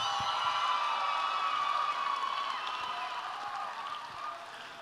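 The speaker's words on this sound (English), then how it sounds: "please, a round of applause for both of these athletes" An audience at a women's fight event applauds both fighters after the bout, a steady, moderately distant wash of clapping and crowd noise that slowly fades over several seconds.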